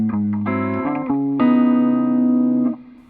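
A Kiesel FG1 electric guitar plays a few sustained distorted chords that ring out and then cut off, loud and alone.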